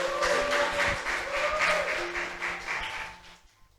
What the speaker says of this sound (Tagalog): Palakpakan naman natin si Lord